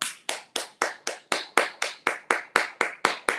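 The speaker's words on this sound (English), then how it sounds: "We're going to clap it up for you" Hands clapping in a steady, even rhythm, about thirteen crisp claps over a few seconds, close and moderately loud with no talking.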